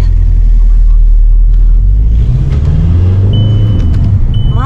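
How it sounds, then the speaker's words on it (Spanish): A car approaches outside an abandoned French house, its low engine rumble swelling steadily louder from the middle onward, with voices talking over it. "ahí viene un coche"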